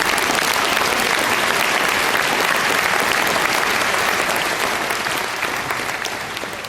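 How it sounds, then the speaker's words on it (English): Loud, dense applause from a graduation ceremony audience fills the hall continuously, tapering slightly toward the end, with a faint crowd murmur beneath the clapping. "Please join me in giving them a round of applause."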